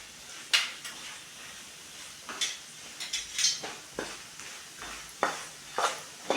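Roasted gram being fried and stirred in a pan for flattened-rice snack, with soft scattered scraping and clinking strokes of a spoon against the pan over a faint sizzle, close and moderately quiet.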